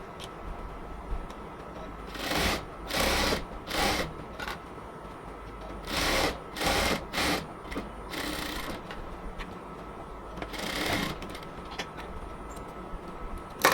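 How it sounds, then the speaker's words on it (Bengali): A sewing machine lock-stitches a cotton dress in several short bursts of rapid whirring, with quiet pauses between runs, close and moderately loud with no talk. "এদিকে আমরা লক স্টিচ দিয়ে দিব।"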